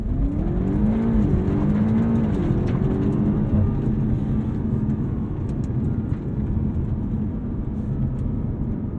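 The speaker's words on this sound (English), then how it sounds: "And pin the throttle, launch control active" 2022 BMW M5 CS accelerating hard from a launch-control start, its engine note climbing in rising sweeps through the gears, loud, close and sustained over rushing road and wind noise.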